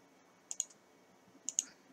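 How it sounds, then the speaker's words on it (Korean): Two quick pairs of crisp mouse clicks at a computer during photo editing, sharp and close in an otherwise quiet room, about one second apart. "클릭"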